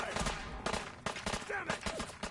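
Rapid bursts of close gunfire during an assault in Fallout 4, a chaotic volley of overlapping shots with brief shouted voices mixed in.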